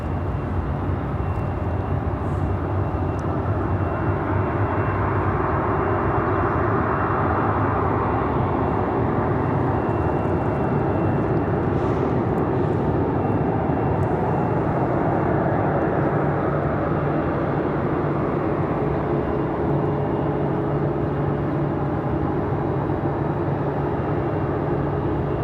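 An American Airlines jet departing runway 5 left at Raleigh-Durham International for Charlotte, its engines a steady distant roar that swells and then slowly fades as the aircraft climbs away.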